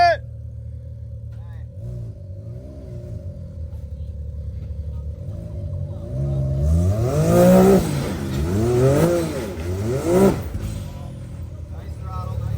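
An off-road vehicle idling and then revving its engine in repeated throttle surges at an offroad park, loud and close, with people talking over it.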